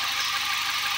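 A Suzuki Ertiga engine runs with the clutch pedal pressed, on a car whose gears will not shift while the engine is running. It makes a loud, close, rough mechanical drone that holds steady through one brief second.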